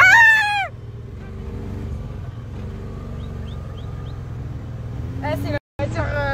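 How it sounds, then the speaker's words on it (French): A desert buggy car engine idles and drones at a low steady pitch, with excited voices talking over it and a brief loud vocal burst at the start and near the end. "Ah c'est la voiture."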